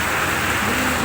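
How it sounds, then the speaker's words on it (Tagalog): Heavy rain falls in a dense, steady roar outside a tricycle terminal, with no pauses and a faint low rumble underneath. "At inabot lahat tayo ng malakas na ulan"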